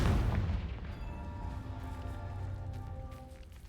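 A Confringo fire spell blasts in Hogwarts Legacy, a single booming explosion at the start that rumbles and fades into a lingering tail, moderately quiet and with no talking.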